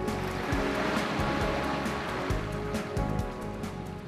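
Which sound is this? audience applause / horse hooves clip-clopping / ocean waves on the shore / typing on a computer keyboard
ocean waves on the shore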